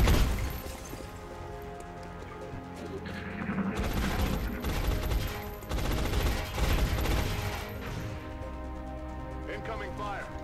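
Bursts of incoming gunfire in the video game XCOM: Enemy Unknown, loud rapid volleys and booming impacts layered over game music, with heavier clusters of shots in the middle.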